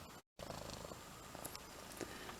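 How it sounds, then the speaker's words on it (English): A recovering house cat, leg shaved from an IV, purrs softly and steadily in a quiet room, a faint continuous low rumble after a brief dropout at the start. "But hearing him purr at least means that he's feeling a lot better now."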